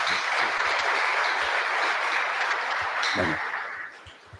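Applause from an audience at a tribute ceremony, thanking the event organizers, a bright burst of clapping that holds steady for several seconds, then fades out.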